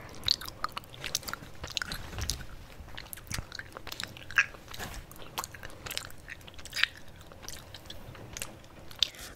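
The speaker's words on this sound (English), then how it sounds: "so I've just got some salt and vinegar crisps" Salt and vinegar crisps crunched and chewed up close, a series of irregular crisp bites and crackling chews with quiet pauses between them and no speech.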